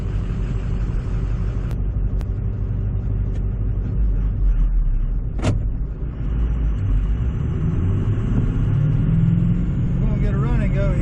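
A four-wheel-drive truck grinds along an off-road track in four-wheel drive, its engine a loud, steady close rumble throughout with a brief sharp click midway.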